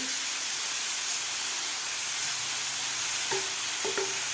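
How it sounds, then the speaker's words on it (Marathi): Grated carrot sautés in ghee in a pan over medium heat, giving a constant soft sizzling hiss throughout, with a few faint stirring clinks near the end. "गाजराचा किस परतून घ्यायचा आहे तुपामध्ये"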